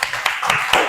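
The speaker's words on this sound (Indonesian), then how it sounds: "Tepuk tangan dulu." A school class applauding together in a classroom, a short burst of quick, fairly loud clapping with a few sharper claps standing out, close by and with no one talking.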